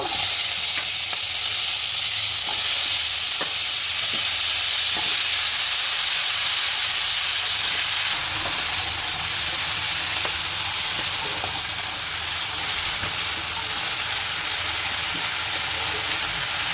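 Drumstick stems sizzle steadily in a pan with prawns and spices, a continuous bright frying hiss with occasional stirring clicks, close and loud with no talk.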